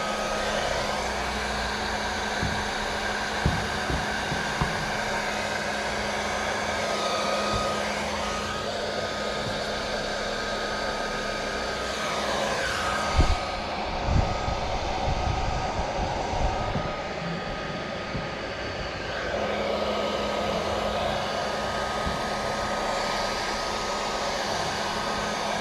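A heat gun blows a steady, loud hiss and whir while heating truck emblems for removal, broken by brief knocks and handling clatter, with no talking.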